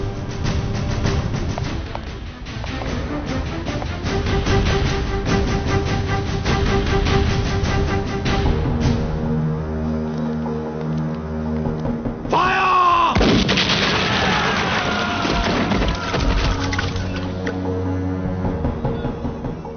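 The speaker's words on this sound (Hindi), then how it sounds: "अब हमारा धमाका भी देख लो।" Explosions booming in an Indian Hindi Army film, with loud, sustained blasts and rumbling gunfire-like bursts throughout, a sharp burst near the middle, set against a dense dramatic score.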